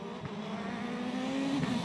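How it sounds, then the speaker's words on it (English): A rally car at the 2019 WRC Corsica approaches from a distance, its engine droning and gradually rising in pitch and loudness over a couple of seconds, with no voices. "Then, through the distance, came Elfyn Evans. And listen to the intent"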